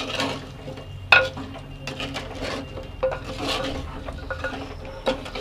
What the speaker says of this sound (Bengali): আলুগুলো দিয়ে একটু ভালো করে নাড়াচাড়া করবো